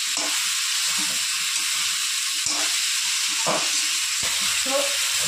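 Vegetables fry in a pan with a constant bright sizzling hiss, punctuated by a few soft clinks and stirring knocks, close up with no talking.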